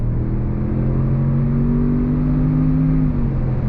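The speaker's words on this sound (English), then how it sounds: "we're gonna go on throttle from a dead stop if you're ready" A 2023 Range Rover Autobiography LWB with its twin-turbo V8 pulls away from a standstill, a steady rising engine drone and whir heard from inside the cabin, loud and continuous without speech.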